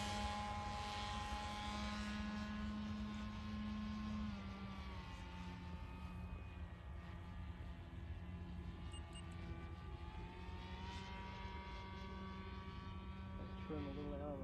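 An 83-inch RQ-7 Shadow RC aircraft from Legend Hobby flies on its maiden flight, its propeller droning steadily with a shifting pitch, fairly faint and distant under a persistent engine hum, with voices nearby.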